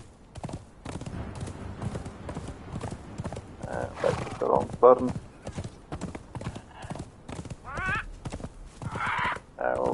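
Horse hooves gallop in a steady clip-clop rhythm while a horse neighs in the Conan Exiles game on the Isle of Siptah map, with someone talking over the hoofbeats throughout.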